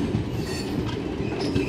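The Satavahana Superfast Intercity Express, running from Vijayawada to Secunderabad, rumbles along near Dornakal Junction, a loud continuous roar of wheels on rails with faint clatter and squeal, heard close from on board.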